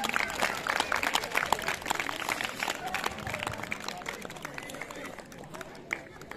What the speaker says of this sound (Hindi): आप ताली बजाते रहिए प्लीज